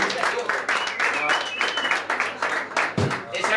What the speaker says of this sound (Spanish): Un aplauso para la batería, por favor.